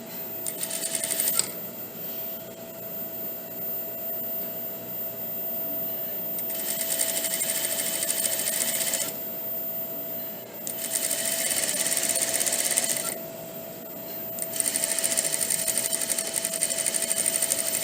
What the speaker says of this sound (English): So I'm sewing that perfect quarter seam.